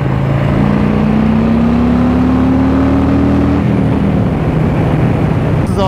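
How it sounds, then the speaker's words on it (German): Harley-Davidson Fat Boy motorcycle engine, apparently a 2-litre unit, rumbling steadily up close as its pitch climbs, then drops at a downshift and settles into a lower, rougher burble, with road and wind noise throughout. "Manchmal bollert es richtig geil beim Runterschalten."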